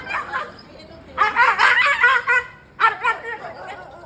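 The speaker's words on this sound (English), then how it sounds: "So this is a very, very angry dog that Earth, who's with me filming" An angry street dog barks and yips loudly at close range in harsh, rapid bursts with a short pause between them. No one speaks over it.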